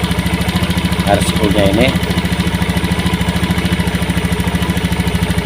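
A motorcycle with a stuttering engine idles while its throttle position sensor voltage is being tuned, giving a steady, loud, rhythmic low chug throughout. Someone talks over it briefly.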